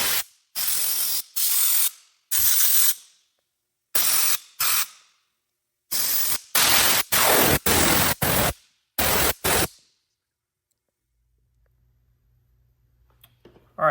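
Compressed air blasts through the passageways of a Mikuni round-slide motorcycle carburetor in a series of short, loud hissing bursts of varying length, followed by near silence and faint clicks.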